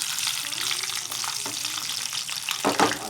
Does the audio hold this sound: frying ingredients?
yes